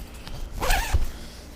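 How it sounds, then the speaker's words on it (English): A single short zip of a tent door zipper being closed on a quick-setup camping tent, close and fairly quiet, with no talking. "it's one zipper"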